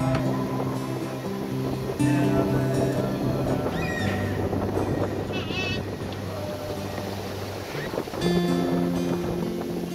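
A sailboat moving through the sea at about four knots under wind, heard as a steady wash of water and wind noise against the hull, fairly close and continuous, with a low rhythmic hum and occasional splashes.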